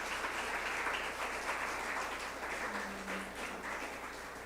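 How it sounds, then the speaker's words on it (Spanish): Sustained applause from a church congregation, a steady dense wash of clapping that holds evenly throughout at moderate distance, with no voices over it. "¿Les puede dar un fuerte aplauso al Señor?"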